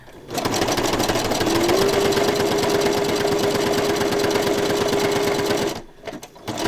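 Steady mechanical whir and rapid chatter of a sewing machine running a short backstitch, continuous and close for several seconds before stopping abruptly, with a few small clicks afterward.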